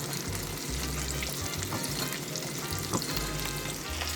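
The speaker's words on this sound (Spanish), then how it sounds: "el que preparamos, ese va directito a el aceite" Panko-breaded shrimp fry in hot oil with a dense, continuous crackling sizzle, close and steady throughout, with occasional faint clinks and no talk.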